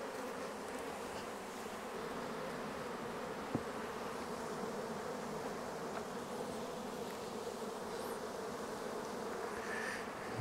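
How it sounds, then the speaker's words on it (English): Robber bees swarm around exposed honey boxes sitting on a trailer, making a dense, steady buzz from many insects close by that holds at an even level throughout. "it's got a bunch of robber bees in there"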